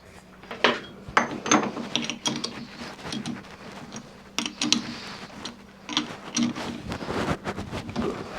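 A lathe parting off a hardened steel socket, giving an irregular run of ticking, rattling and scraping clicks over a steady low mechanical hum, close and fairly loud with no talking.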